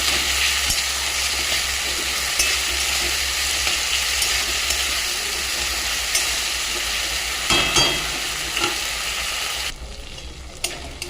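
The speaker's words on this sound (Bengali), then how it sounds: "আর একটু ভালো করে ভাজবো কালারটা সুন্দর হওয়ার জন্য" Tomatoes and onions fry in a pan for an egg curry, giving a loud, continuous sizzle close up, with a few stirring scrapes and a slight drop in the hiss near the end.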